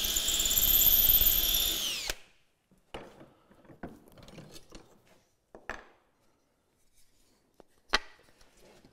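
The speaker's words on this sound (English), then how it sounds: "Start the drill slowly." A hand drill bores into wood at a workbench while cam clamps are being made, a steady loud whirring for about two seconds that stops abruptly, followed by sparse quiet knocks and handling clatter.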